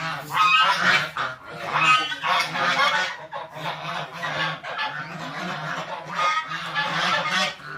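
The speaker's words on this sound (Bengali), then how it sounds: "10-11টা হয়তো রাজহাঁস আছে" A flock of ten or eleven domestic geese honks loudly and continuously, with overlapping calls close by and no voices.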